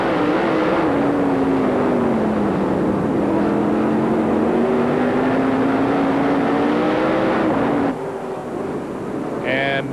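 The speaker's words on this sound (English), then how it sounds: "let you listen to how he uses the throttle to steer the car" A dirt late-model race car engine heard from an in-car camera at Tazewell Speedway during a 1998 dirt race, roaring loud and close as the throttle rises and falls in long swells, then briefly drops in level near the end.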